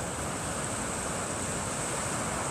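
Ocean surf washes onto Sumiyoshi beach in Shikoku at night, a steady, close wash of broadband noise with no distinct breaks, heard alone without voices.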